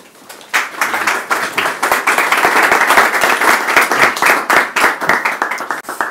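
An audience in a lecture hall gives a loud, sustained round of applause to welcome a guest speaker, dense rapid clapping swelling quickly and holding steady for several seconds before beginning to thin out.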